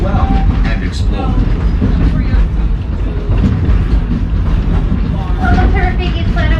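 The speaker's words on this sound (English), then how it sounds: "Remain seated until the train comes to a complete stop" A loud, steady rumble of a park train running at Disney's Animal Kingdom, with continuous rolling wheel noise and faint clatter throughout, close and unbroken.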